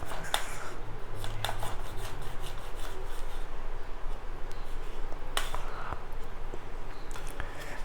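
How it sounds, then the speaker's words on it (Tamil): A knife slicing through a homemade sushi roll with an oversized omelette filling, giving soft scraping, sawing rasps and a few sharp clicks in short bursts close up, with no talking. "இப்போ இதை வந்து நம்ம கட் பண்ணோன்னா நம்மளோட சூஷி வந்து ரெடி."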